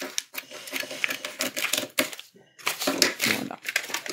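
Scissors or a cutter slicing through material for a single-colour Christmas Santa Claus decoration, quick close crisp snipping and crinkling strokes in bursts, broken by a short pause.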